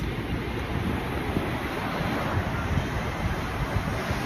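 Sea waves wash onto a white sand beach at Casiguran, Aurora, a continuous surf roar mixed with wind rumble on the microphone, no clear talk.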